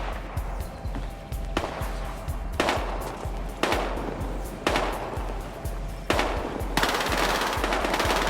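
Gunfire in the first-person shooter Battlefield Hardline on PS4, a string of loud, close shots and bursts at roughly one-second intervals with a dense automatic volley near the end, over a low steady game rumble.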